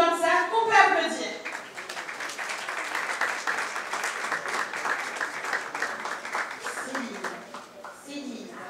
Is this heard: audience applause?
yes